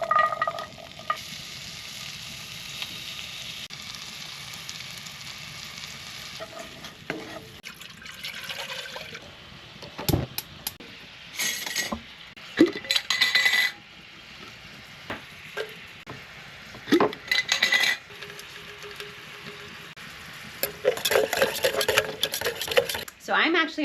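Blueberries cook in a skillet with a steady low sizzle and bubbling, broken by louder clatters of stirring and handling in a homestead kitchen.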